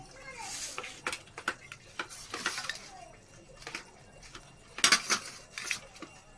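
Egg masala being stirred and fried in a pan: irregular metallic clinks and scrapes of a utensil against the pan, with a brief voice and a cluster of louder clatters late on.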